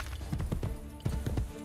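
Horse hooves clip-clopping in the Xbox game Assassin's Creed Brotherhood, a steady rhythmic run of close, moderately loud hoof strikes over a low ambient bed, about a dozen beats.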